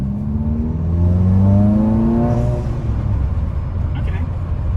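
A VW MK7 GTI fitted with an ARM Motorsports intake accelerates, its engine note climbing smoothly in pitch and swelling in loudness, then easing off, heard from inside the car.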